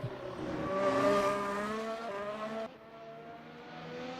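An F1 car engine drives around Albert Park in Melbourne in a racing video game, a fairly faint, steady high whine that rises and eases across several seconds, heard without talk.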